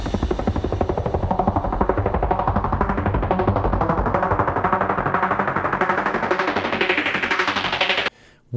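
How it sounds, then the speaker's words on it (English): A heavily distorted signature synth pulses in a fast, relentless staccato rhythm, loud and gritty, brightening gradually before cutting off abruptly near the end. "We aim to recreate this type of synth here."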